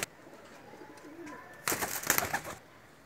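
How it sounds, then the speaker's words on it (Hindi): A Pakistani long-distance flying pigeon gives a soft, low coo close by, followed by a louder burst of rustling and fluttering noise. "माशाल्लाह, जेठ में उड़ने लंबी परवाज़ों का कबूतर है।"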